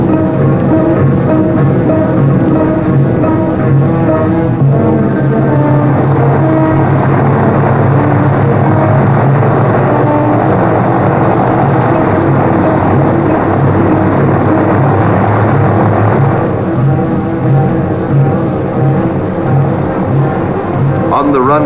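A Pan Am Boeing 377 Stratocruiser piston-propeller airliner beginning to move on the airfield, its engines giving a steady, loud, throbbing drone that holds without a break, with a narrator speaking over it.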